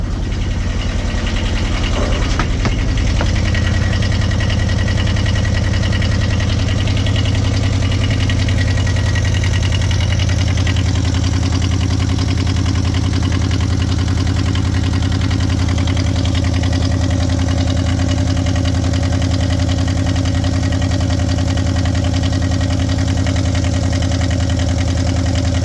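A sailboat engine runs steadily for the whole stretch, a loud, close, low rumbling drone with a constant rhythmic knocking, after a brief clatter near the start.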